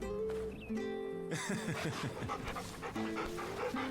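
A dog companion in Final Fantasy XVI pants rhythmically in quick, close breaths, with a steady game music bed and a low whimpering tone underneath.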